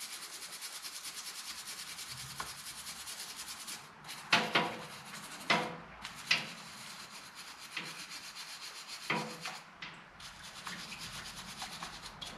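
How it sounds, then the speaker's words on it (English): Scrubbing grime off a 1948 Harley-Davidson WL Flathead 45 engine makes a steady, faint rasping rub, broken by a few louder scraping strokes. "Just a little bit of scrubbing that I've been doing for a couple minutes is actually cleaning this thing up a lot."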